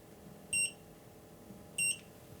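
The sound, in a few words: EX-TEC PM 5xx gas leak detector alarm for CO sensor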